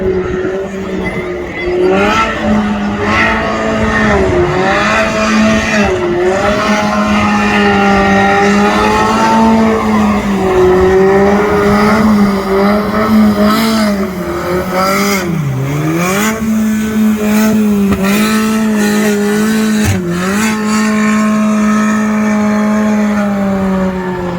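Banger racing cars at Lochgelly Raceway, Scotland, rev hard and skid around the track, with engines rising and falling continuously, tyres squealing and occasional knocks, loud and sustained, with crowd noise and faint voices underneath.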